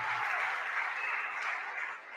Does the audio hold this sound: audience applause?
yes